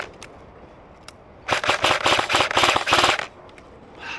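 A Dytac Sharps Bros SLR Rifleworks MB47 airsoft AEG, an AK-pattern electric gun, rips off a dense stream of rapid mechanical shots in several quick bursts, close and loud, with quiet before and after.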